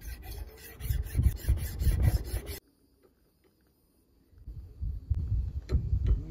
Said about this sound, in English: More filing.